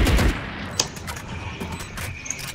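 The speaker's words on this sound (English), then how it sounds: "He's shooting off." Gunfire in Valorant: a heavy burst of shots at the start, then scattered sharp single cracks and distant shots among game sound effects, fairly close and loud.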